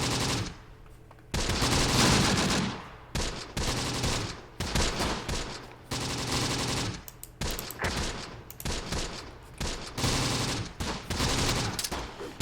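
Gunfire in the Close Combat war game: dense bursts of machine-gun fire and overlapping shots in the North African desert, loud and sustained in rapid volleys with brief lulls between them, no talking.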